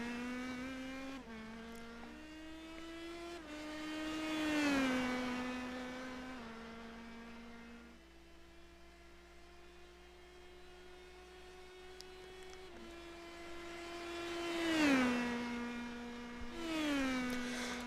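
Indy Pro 2000 open-wheel race car engines in iRacing, a high-pitched whine that climbs through gears with quick upshifts, swells as cars pass close, then fades and rises again over a faint steady hum.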